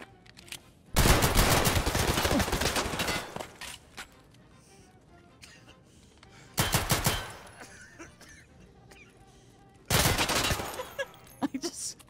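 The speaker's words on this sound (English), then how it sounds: "I thought I heard like an M4 or something" M4 rifle fire in Escape from Tarkov, three loud sustained bursts of rapid automatic shots separated by quieter gaps, close and harsh, with no talking.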